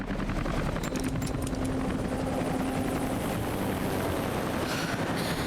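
A helicopter in the video game Rise of the Tomb Raider drones with a steady whirring rotor hum, continuous and fairly quiet throughout with no speech.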